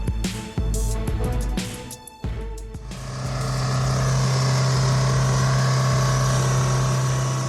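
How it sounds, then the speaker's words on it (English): A runaway diesel truck engine feeding on its own oil rises from clattering mechanical noise into a loud, sustained, strained roar that holds at a high, steady pitch. "Runaway diesel engines are no joke."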